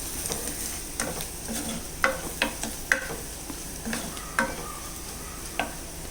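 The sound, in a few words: turmeric powder being stirred and sautéed in a pan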